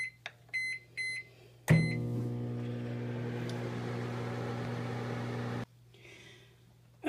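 A few keypad beeps, then a microwave oven heating a small jar candle hums steadily with a low electric drone for several seconds before cutting off abruptly.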